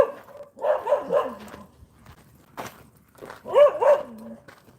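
A dog left outside in a suburban yard barks in two short bursts of a few barks each, moderately distant and fairly loud, with quiet gaps between them.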